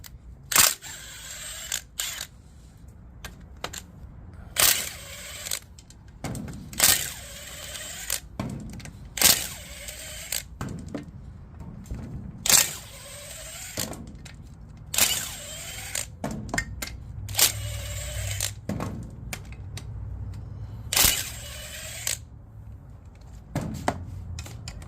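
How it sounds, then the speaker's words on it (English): Metal clicks and ratcheting from removing the differential cover on a 12-bolt rear axle of a 1970 El Camino, coming in sharp, close bursts with pauses between them in a quiet garage. "I'm gonna have to remove this differential cover on this 12 bolt."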